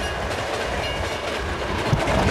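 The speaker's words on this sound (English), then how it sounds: "It's an Amtrak." An Amtrak Hiawatha passenger train rushes past close by north of Chicago, a continuous loud roar of wheels and rattling cars with faint clicking over the rails.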